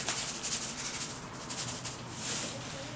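Tanning mixture is rubbed by hand into a rabbit hide, giving a steady, close, soft scraping and rubbing texture that swells and eases in strokes throughout.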